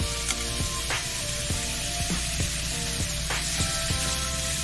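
Papaya with salt sautéing in a pan, a steady dense sizzle with scattered clicks and scrapes of a stirring spoon throughout, close and continuous.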